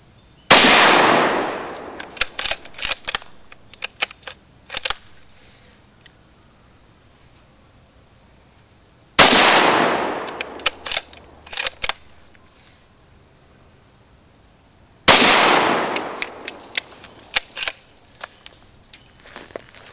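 Three loud single gunshots from a .223/5.56 NATO rifle with a 22-inch barrel ring out several seconds apart, each with a sharp crack, a trailing echo and clinking brass, over a steady chirping of crickets.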